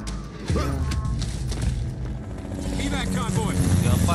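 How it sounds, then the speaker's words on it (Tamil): A helicopter approaches in the video game Gears 5, with a dense rumbling rotor and engine roar and scattered thumps under steady talking from players. "இந்த ஹெலிகாப்டர் வர சவுண்ட்லாம் வேற லெவலுக்கு கேக்குது"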